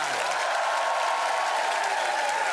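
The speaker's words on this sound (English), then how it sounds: "Please give them all an enormous round of applause as I welcome our almighty five for the final time" A television studio audience claps and cheers as comedy panelists are introduced, a continuous, even wash of applause at moderate loudness, with a brief low musical tone fading at the start.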